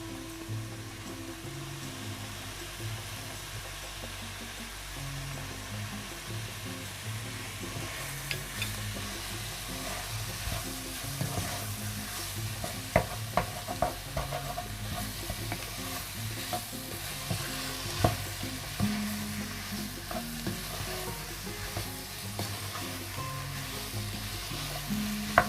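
Beef rendang ingredients seasoned with pepper, salt and tamarind paste are sautéed and stirred in a pan, a steady close sizzle with scraping stirs and small clinks throughout, no talking.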